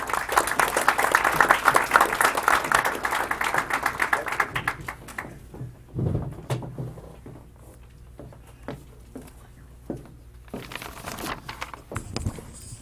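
Applause breaks out at a news conference about hockey teams, a loud dense patter of many hands that fades after several seconds, followed by quieter scattered noise and a few thumps.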